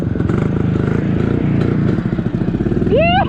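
A Yezdi CL2 motorcycle engine with an Allied CDI runs in first gear close by, a steady lumpy single-cylinder thump with some clatter, and a brief rising squeal near the end.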